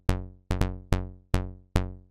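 Trance bass line in Ableton run through a compressor, six close, punchy plucked notes in an uneven rhythm, each with a sharp attack and quick decay, heard alone and clean.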